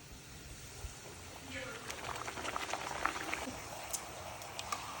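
Rolled pakwan dough fries in medium-hot oil with a soft, continuous bubbling sizzle that grows busier partway through, with a voice talking quietly underneath.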